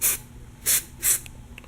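White lithium grease is sprayed from an aerosol can onto garage door rollers and hinges in three short, sharp hissing bursts with brief pauses between them.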